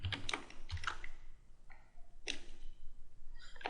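Typing on a computer keyboard while entering a name into an MS Word document: bursts of crisp, close key clicks with short pauses between words, a few sharper clacks, no talking.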